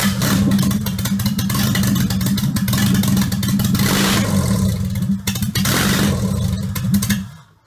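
A Honda H22 engine fitted in a Civic fires up and revs loudly and steadily in a garage, its close, harsh drone rising and holding for several seconds before cutting off abruptly at the end.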